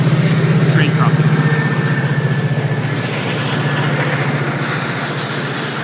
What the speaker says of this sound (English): Train crossing.